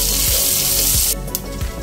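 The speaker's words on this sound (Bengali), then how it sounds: "এবার ফোড়ন কয়েক সেকেন্ড লো ফ্লেমে নেড়ে নেব" Chopped ginger and a dried red chili sizzling in hot oil over a low flame, a dense steady hiss that cuts off abruptly partway, followed by quieter spattering and a couple of light scrapes.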